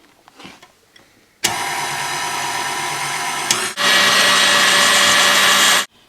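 Electric hand mixer whisking aquafaba into vegan meringue, switched on abruptly and running as a loud, steady whir that steps up to a higher speed partway through before cutting off.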